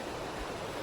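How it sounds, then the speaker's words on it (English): Fryatt Creek, a mountain creek in a lodgepole pine forest, rushing in a steady, dense hiss of flowing water for a brief moment, with no voices. "creek here, I'm assuming this is the Fryatt Valley Creek, or Fryatt Creek maybe"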